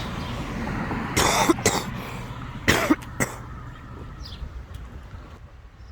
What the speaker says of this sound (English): It's just a smoker's cough.